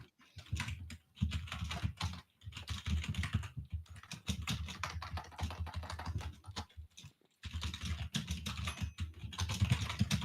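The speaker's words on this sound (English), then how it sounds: "Your keyboard is so loud I can hear it in my dreams" Fast, continuous clacking of a computer keyboard, loud and close, with a few short pauses between bursts of typing.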